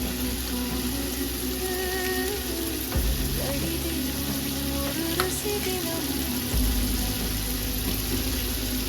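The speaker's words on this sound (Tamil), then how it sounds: "150 கிராம் இஞ்சி பூண்டு ரெண்டுமே கலந்து போட்டு பச்சை வாசனை போகிற வரைக்கும் வதக்கணும்." Ginger garlic paste sautéing with softened tomatoes in a pan for mutton biryani, a loud continuous sizzle and crackle with occasional scraping stirs, close up and without speech.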